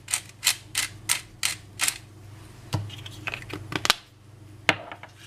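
Black pepper ground by hand into a meatball mixture, a close run of regular mechanical clicks and ratcheting crunches in quick succession, then a few sparser, sharper clicks.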